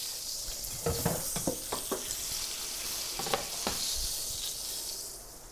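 A steak sizzles steadily in a hot pan while fat is spooned over it for basting, with scattered spoon-on-pan clinks and bursts of spattering over a continuous hiss.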